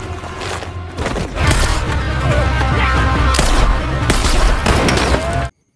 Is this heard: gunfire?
yes